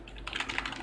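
Rapid clicking keystrokes on a computer keyboard while entering Python code, starting after a brief pause and continuing as a quick, close, even patter of taps with no talking.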